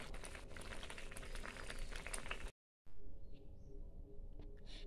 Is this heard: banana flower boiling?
yes